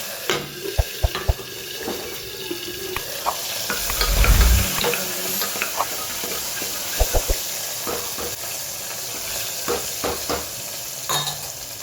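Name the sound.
frying asafoetida and tomatoes in a pan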